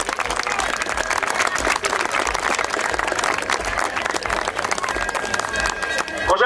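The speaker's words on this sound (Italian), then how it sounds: "Facciamo un bel applauso a tutti gli organizzatori di questi importanti eventi." A festival crowd at an agricultural fair in Cogolo, Val di Sole, claps loudly and continuously for the event organizers, a dense, sustained wash of applause with a voice faintly audible underneath.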